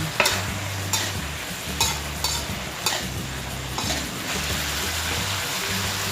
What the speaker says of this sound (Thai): เมื่อหน่อไม้สุกแล้วก็ใส่หมูกรอบลงไปค่ะ แล้วก็ผัดให้เข้ากัน